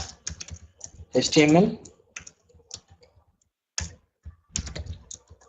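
Keys on a computer keyboard tap in short uneven bursts as code is typed, close and crisp, with a voice briefly speaking between the keystrokes.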